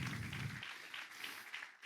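A church congregation applauds during a sermon, a brief, distant and faint wash of clapping that sounds soft and diffuse in a large room.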